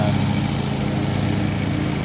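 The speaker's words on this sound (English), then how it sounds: "you'll have to excuse the lawnmower here" A lawn mower engine runs loudly and steadily nearby, a continuous buzzing drone with no talking.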